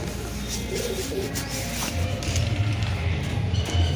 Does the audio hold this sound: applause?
no